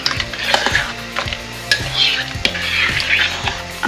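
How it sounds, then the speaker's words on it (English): A spoon stirs gravy in a slow cooker pot, making rhythmic scraping and clinking knocks against the ceramic at close range, with a faint bubbling underneath. "Give it a stir"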